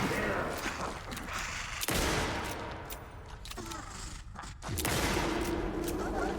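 Gunfire in the video game Alan Wake II, with loud dense bursts of shots and brief gaps between volleys, heard close and without talk.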